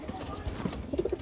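Pet pigeons give a brief burst of low, throaty cooing near the end of a noisy moment, partly masked by background voices and movement.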